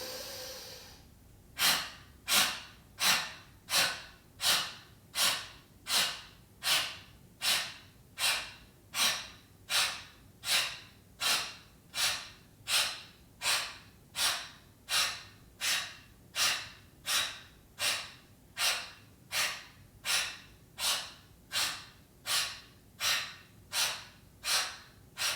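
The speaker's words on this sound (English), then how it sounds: "Inhale through the nose. Release through the mouth." Rhythmic yoga breathing in a quarantine home class, with about thirty strong, evenly spaced breaths drawn in through the nose and pushed out through the mouth, close and loud, with no talking between them.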